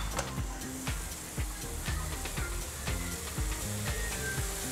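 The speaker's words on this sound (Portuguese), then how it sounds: "Isso é o que a gente chama de saltear numa sotese, que é essa frigideira com a borda abertinha." Butter sizzles in an open-rimmed sauté pan with lemon, a steady broad frying hiss running throughout with faint clicks and a low tonal hum underneath, no voices.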